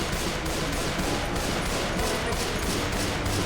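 Rapid automatic sniper rifle fire in Left 4 Dead 2, a dense, continuous burst of overlapping gunshots that stays loud and steady throughout with no pauses and no talking.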